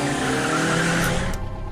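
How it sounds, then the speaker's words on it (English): Car moving briefly with a short tire squeal or skid-like sweep over engine noise, loud and close, cutting off abruptly after about a second and a half. "I can crawl faster than this car."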